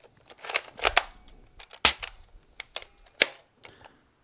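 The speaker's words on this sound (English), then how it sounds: "You pull the trigger, and it's still popping after a few seconds when you break the seal there." Toy foam blaster with a tight seal, a rapid series of sharp dry pops and clicks, close and loud, spaced irregularly over a few seconds with quiet gaps between them.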